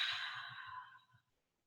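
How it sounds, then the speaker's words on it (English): A slow, deep breath drawn in and released during a gentle yoga session, one soft airy exhale fading to silence after about a second. "Take a deep breath in and out."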